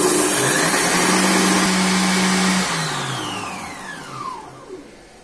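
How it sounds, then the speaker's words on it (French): A Cecotec Mambo Habana multicooker blade spinning through herbs, spices and other ingredients, a loud motor whir with a steady hum that then winds down, its pitch sliding lower as it slows to a stop. "on va lancer un petit coup de cutter pour mélanger tout ça"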